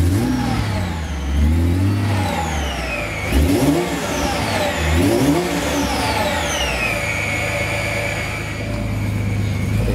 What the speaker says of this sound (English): Nice boxer engine sound.